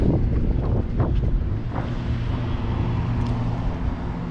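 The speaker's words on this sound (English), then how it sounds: "that wind is just ripping" Strong wind roars steadily across a lake around a fishing boat, a loud, unbroken rush buffeting the microphone with faint water movement underneath.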